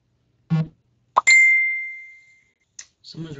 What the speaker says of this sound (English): Someone's really texting me right now on my phone while I'm doing this.